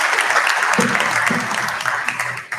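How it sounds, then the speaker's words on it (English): An audience at a TiECon Delhi-NCR 2023 conference panel session gives a round of applause, with steady, fairly loud clapping that thins slightly toward the end while a voice speaks briefly over it. "A huge round of applause for all."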